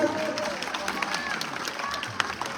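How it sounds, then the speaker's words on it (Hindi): A crowd at an Indian political rally claps steadily to welcome a guest, with a dense, continuous patter of applause throughout and a voice speaking over it. "आपके बीच में सबके सब ताली बजाकर इनका स्वागत"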